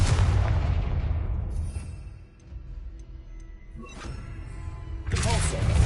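A Confringo blasting spell in Hogwarts Legacy bursts with a loud, close explosive blast that decays into a quieter tail, followed by a few faint clicks and a second heavy burst near the end.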